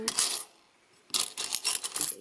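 Old coins, one dating from 1948 and another from Turkey, clink and jingle as they are handled, with a dense burst of metallic chiming, a short pause, then several more bright clattering bursts close by.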